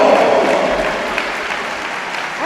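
An Italian crowd at a judo event in Rome applauds, a dense wash of clapping that starts loud and slowly fades, with a cheer at the end.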